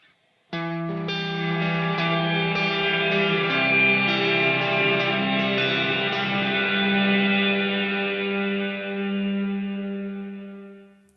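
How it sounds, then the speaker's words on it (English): Guitar through delay and reverb pedals in series, both set fully wet with no dry signal: dense, smeared notes wash into a thick wall of echoing repeats and reverb tails, no clean attack, sustaining loudly for about ten seconds. "This is what it now sounds like if you have a delay in kill dry and a reverb pedal in kill dry in series"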